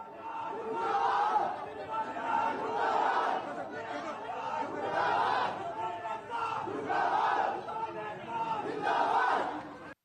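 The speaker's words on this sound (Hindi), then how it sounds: "भैंसवाल में संजीव बालियान और बीजेपी के खिलाफ जमकर नारेबाजी की गई" Villagers in Bhainswal shouting protest slogans against Sanjeev Balyan and the BJP, a crowd chanting in loud repeated bursts with a rhythmic call-and-response swell, voices merged and fairly close.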